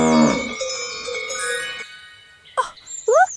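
A cow gives a loud, drawn-out moo up close, with a bright tonal jingle and short chirpy sounds following after a brief pause.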